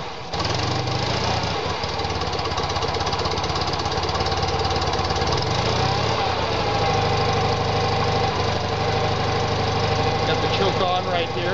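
A 1972 BMW R75/5 motorcycle engine idles cold with the choke on, a loud, close, steady thumping rumble that persists throughout, with a voice speaking over it.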